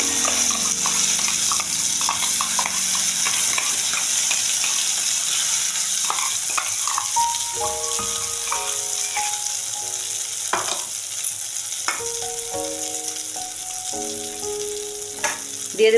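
Green pea paste frying with asafoetida in mustard oil in a pan, a continuous bright sizzle with occasional stirring knocks and some faint background tones.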